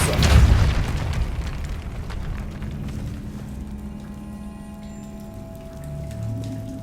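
Depulso force spell cast in the video game Hogwarts Legacy: a heavy booming impact at the start that fades into a low rumbling tail with faint hissing ambience.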